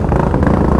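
A Kawasaki Z300 motorcycle with an aftermarket exhaust and filter rides at speed, giving a loud, steady, rumbling engine roar with wind noise throughout.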